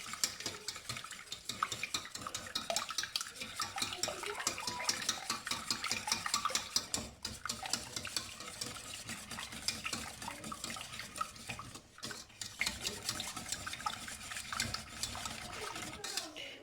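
A whisk works through tart ingredients with still-solid butter in a bowl, producing fast, rhythmic metallic scraping and clicking that stays quiet and continuous, with a brief pause partway through.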